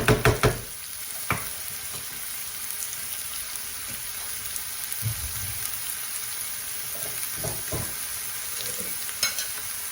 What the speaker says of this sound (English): what we want to do is just let these onions simmer here